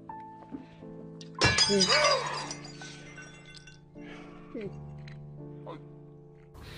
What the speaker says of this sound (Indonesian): Ia memecahkan gelas yang ia pegang hingga tangannya terluka.